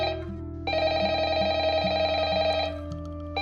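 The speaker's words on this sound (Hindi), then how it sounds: "उसके फोन पर अजय की वीडियो कॉल आने लगी" A mobile phone rings with an incoming video call, a repeating electronic ringtone melody that plays steadily and fairly loud, pausing briefly before starting again, with no talk.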